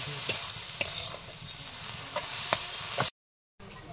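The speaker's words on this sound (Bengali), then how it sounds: "খুব ভালো করে এটা নাড়াচাড়া করতে হবে, ভেজে নিতে হবে একদম খুব ভালো করে" Prawns fry in a pan with a steady close sizzle while a utensil stirs and scrapes them in several sharp clinks, then a brief pause before the frying resumes.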